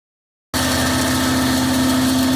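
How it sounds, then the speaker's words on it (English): A McCormick Deering tractor engine, belt-driving a No. 6 hammer mill, abruptly starts up and runs steadily with a loud, constant mechanical hum and rhythmic thrumming, close and unbroken. "The mill is powered by a tractor."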